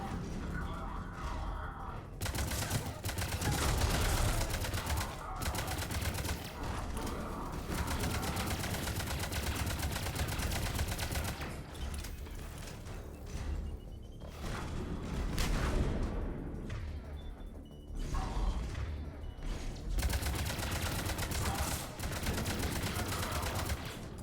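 Sustained gunfire in the video game Mass Effect 3 on Insanity difficulty, the Priority: Eden Prime mission, as a tough enemy is shot down: dense, continuous bursts and booms fill the whole stretch with only brief lulls.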